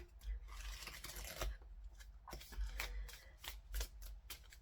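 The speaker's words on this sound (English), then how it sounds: "I'm going to pull two cards from the Oracle of the Radiant Sun." Oracle cards from the Oracle of the Radiant Sun deck being shuffled by hand, a soft, close run of riffling, rubbing and tapping sounds in uneven bursts.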